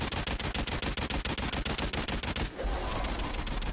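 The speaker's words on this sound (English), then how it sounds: "Oh, I'm getting shot at." Rapid automatic gunfire in a shooter video game, a fast run of regular loud bursts that stops abruptly, followed by a noisier, rumbling wash of sound.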